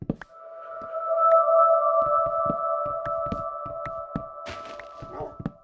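An eerie Minecraft cave ambience plays, pitched down and louder than usual: two sustained tones drone together while scattered faint clicks and low thumps sound beneath them.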